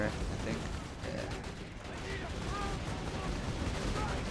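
Automated turrets firing in the video game Borderlands 2: dense, continuous rattling gunfire mixed with combat noise, steady and loud throughout.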